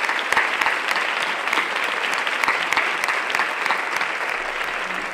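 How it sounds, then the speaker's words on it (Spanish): A conference audience in Burgos applauds an honoured author. The clapping is dense, steady and continuous, fairly loud and with no voices over it. "Un aplauso."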